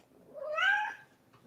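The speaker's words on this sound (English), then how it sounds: "don't step on the cat" A house cat gives a single rising-and-falling meow during an indoor yoga class, clear and fairly close, with no talk over it.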